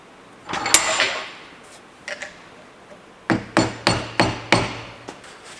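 Prying apart a gear pump from a Caterpillar 3306 power pack with screwdrivers or chisels in a vise: a scraping metallic clank, then a rapid series of five sharp knocks, close and without talk.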